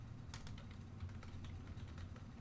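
Rapid typing on a computer keyboard: a steady, uneven run of light, close clicks over a low background hum, with no one talking.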